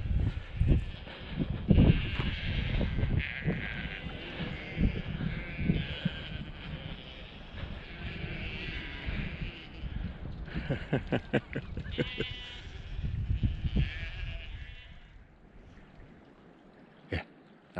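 A flock of sheep bleating outdoors, many overlapping calls near and far, steady through the clip, with occasional human voices mixed in.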